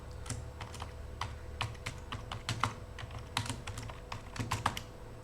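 An SQL query is typed on a computer keyboard, a steady patter of quick key clicks at close range over a low hum.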